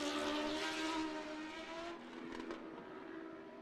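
A superbike racing motorcycle with a Superbike engine in a Superstock chassis screams past loudly at the Macau Grand Prix street circuit. Its high-revving engine note holds strong and then fades slightly as it moves away, with no talking.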